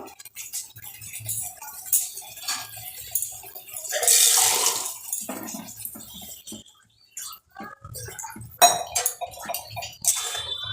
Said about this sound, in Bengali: এবার আমি একটু গ্রেভি করার জন্য হালকা দিয়ে দেবো একটু জল